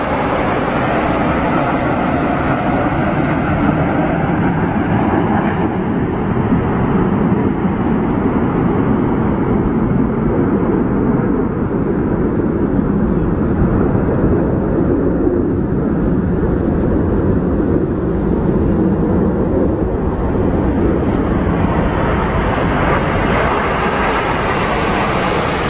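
A formation of 22 Typhoon fighter jets passes overhead during VE Day celebrations, a loud, continuous roaring rush that holds steady and then slowly eases.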